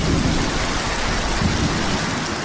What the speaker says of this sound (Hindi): मतवाले हाथियों के समान आकाश में गड़गड़ाहट पर गड़गड़ाहट गूंजने लगी और बेशुमार पानी बरसा